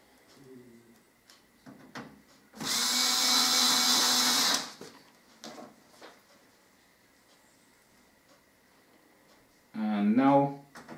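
A cordless power screwdriver driving screws during a build, one loud steady whir lasting about two seconds, with a short second burst near the end. Faint handling knocks and soft speech come in between the bursts.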